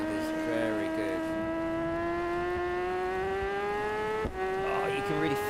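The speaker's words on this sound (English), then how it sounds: "Exhaust sound is very good." Racing motorcycle engine in the video game Isle of Man TT 3, a steady high-pitched exhaust drone climbing gradually in pitch as it accelerates, with a brief dip near the end and a voice talking quietly underneath.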